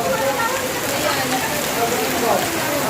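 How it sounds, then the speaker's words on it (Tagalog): Very heavy storm rain on Johnson Island, Roxas, Palawan, forms a dense, loud, continuous hiss and patter of downpour close by with no letup. "grabing lakas ng ulan"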